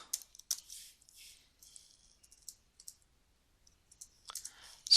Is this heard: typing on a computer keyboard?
yes